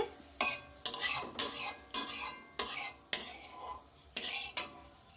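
Pieces of fish roe frying in hot oil, heard as about nine sharp crackling bursts and spatters at irregular intervals, each fading quickly, loud and close with faint sizzling between.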